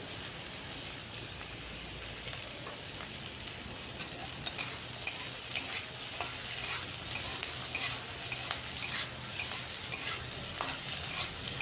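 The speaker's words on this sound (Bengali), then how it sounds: "পেঁয়াজটাকে একটু হালকা ভেজে নেব।" Large chunks of onion fry in hot mustard oil with a soft, continuous crackle and a light patter of spitting pops, fairly quiet and with no speech.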